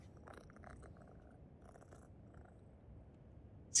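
Cat being petted in PowerWash Simulator, purring softly and steadily against a low ambient hum, with a bright tone at the very end.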